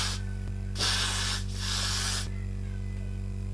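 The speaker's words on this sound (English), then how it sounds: "I'm going to spray it one more time." Two short aerosol spray bursts onto wig lace, each a hiss of about half a second, separated by a brief pause, over a steady background hum.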